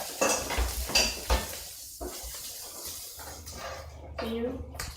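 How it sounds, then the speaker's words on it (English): Plates and cutlery clink and scrape as a table is set in a kitchen, with sharp ceramic knocks and metal rattles while people talk nearby and something faintly sizzles. "Maybe we can also already place the plates and the cutlery."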